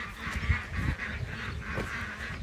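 Geese honk continuously at close range on a farm where ducks share the grassless enclosure, their calls overlapping in a steady noisy chorus.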